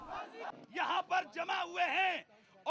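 A crowd in Rawalpindi, near Islamabad, cheers and chants for a killer's father, rhythmic shouted voices rising and falling in bursts, fairly close and loud.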